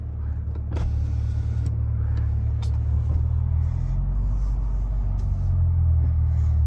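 Steady low engine rumble and road drone heard from inside a moving 2022 Corvette C8.R sports car, constant and fairly loud, with faint clicks and rattles on top.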